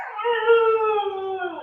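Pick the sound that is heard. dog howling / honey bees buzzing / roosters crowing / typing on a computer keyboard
dog howling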